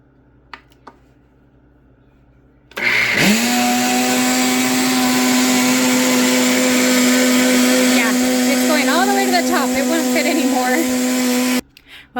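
A blender packed full of heavy cream being whipped into butter roars loudly and steadily for several seconds, a close motor whine that shifts pitch as the cream thickens, then cuts off abruptly.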